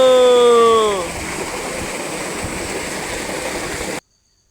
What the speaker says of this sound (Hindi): फिर हमने टूवेल चलवाया। चलने लगा टूवेल